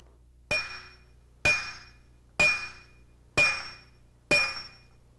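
Five sharp metallic taps from a steel block driving an engine harmonic balancer onto the crankshaft hub, evenly spaced about a second apart, each ringing briefly, close and alone.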